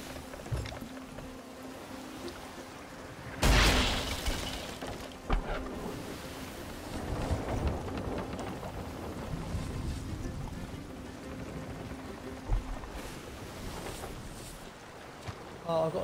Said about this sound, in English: Sailing in a storm